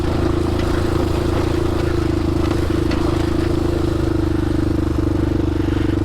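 A 2007 Honda 400ex quad ATV riding dirt trails, its engine droning loudly and steadily throughout at an even throttle, close up with no talking.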